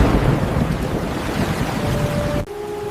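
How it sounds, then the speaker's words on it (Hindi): Flood water from a river rushing into a village, a loud continuous roar and wash like heavy surf, with a faint tone near the end. "जल्दी भागो, नदी का पानी गांव में घुस गया।"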